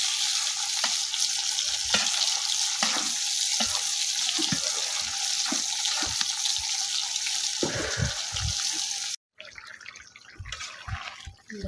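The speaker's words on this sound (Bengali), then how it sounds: "বেগুনের আলু একসাথে দিয়ে ভালোভাবে কষিয়ে নিচ্ছি।" Eggplant and potato fry in a pan with a steady, close sizzle and scattered stirring scrapes, then a brief cut leads into quieter sizzling with a few more scrapes.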